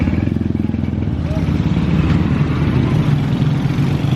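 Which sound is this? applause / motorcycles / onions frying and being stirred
motorcycles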